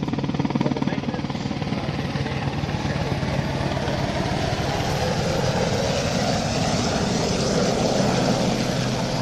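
Rescue helicopter with yellow-tipped rotor blades, heard from film footage as a loud, steady, broadband engine and rotor roar that holds without a break throughout.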